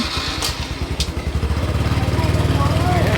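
A motorcycle engine chugs close by, its low pulsing beat quickening steadily as it revs up and pulls away, loud and near.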